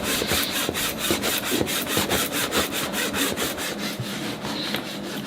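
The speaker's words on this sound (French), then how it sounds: "En fait, faut vraiment que je scie genre les bords." Steady rhythmic strokes of a hand saw cutting through the edges of a wooden piece, each rasping pass close and clear, repeating evenly throughout with no speech.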